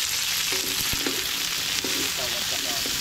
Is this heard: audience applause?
no